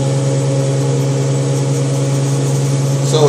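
An electric vehicle fitted with a ZF automatic gearbox drives along under power, giving a steady, close motor hum with a shift in tone near the end as the gearbox changes up. No one speaks.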